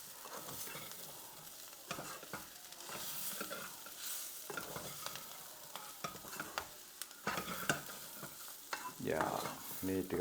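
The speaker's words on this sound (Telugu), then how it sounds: "ఒక్కసారి ఉప్పు కారాలు వేసాక కూడా ఒక్కసారి తిప్పేసుకున్నామంటే సరిపోతుంది" Drumstick leaves and moong dal curry stirred in a pan with salt and chilli, a spatula scraping and clacking in irregular strokes over a soft background sizzle, close by.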